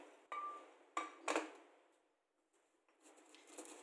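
A pestle strikes roasted dry Panang curry paste ingredients in a mortar, giving a few sharp, quiet knocks close by, then a pause and softer grinding taps.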